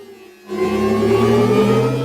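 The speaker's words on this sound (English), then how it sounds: "These are elements of the Audi R8 e-tron sound" After a brief quiet moment, the synthetic Audi R8 e-tron electric sports car sound swells in, a smooth layered hum with rising whirring tones, loud and steady.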